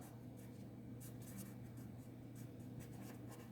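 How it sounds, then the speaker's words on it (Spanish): Handwriting on paper or a board, a steady faint scratching with short stroke bursts, close and quiet, forming the letters SOHCAHTOA. "Escribo lo de SOHCAHTOA."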